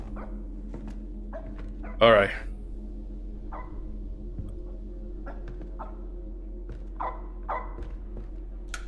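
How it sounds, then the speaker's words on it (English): Dog barking inside a horror video game, a few short sharp barks around the middle heard over a steady low droning ambience, with someone talking briefly. "The dog is barking."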